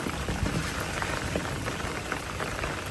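Steady rain falls on a wet day around a vegetable garden with chives and small fruiting plants, a dense continuous patter at close range with no voices.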